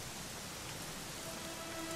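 Rain falls steadily in Dragon Quest XI, a soft, even hiss of drops on surfaces, faint and constant for a couple of seconds, with no voices.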